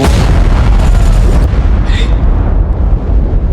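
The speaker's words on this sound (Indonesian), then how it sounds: "mendengar bunyi ledakan tersebut" A loud, rumbling explosion roars continuously, heavy low booming that gradually eases off.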